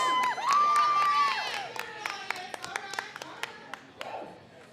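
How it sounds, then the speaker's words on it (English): A crowd of fans cheers and whoops for a female powerlifter at a USA Powerlifting meet, loud at first, with a shrill voice, then trailing into scattered sharp claps and shouts. "She's got some fans cheering her on."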